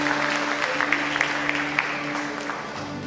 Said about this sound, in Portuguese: Dá um aplauso para Ele.